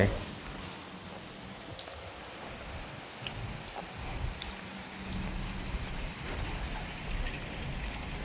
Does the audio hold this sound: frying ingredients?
no